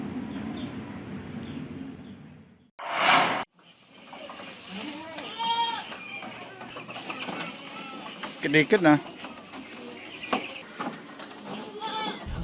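Goats on a farm in Bali bleating repeatedly, close and loud, mixed with chickens clucking, a burst of rough noise, and a person speaking briefly in between.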